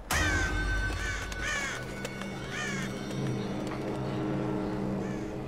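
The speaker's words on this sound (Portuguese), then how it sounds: "Só deu gritinho e os corvos saíram fora" Crows in Tomb Raider caw several times in quick bursts, close and loud at first, then grow sparser and fainter as the flock flies off, over a low background rumble.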